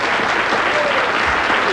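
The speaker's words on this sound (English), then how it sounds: "give them a big round of applause" A game show studio audience applauds loudly and steadily, dense clapping filling the whole moment with a faint voice underneath.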